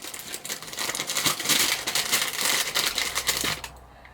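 Paper bag holding buttons crinkles and rustles steadily for about four seconds, close and fairly loud, a dense papery crackle that fades out at the end.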